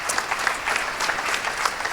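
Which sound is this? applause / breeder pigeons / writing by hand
applause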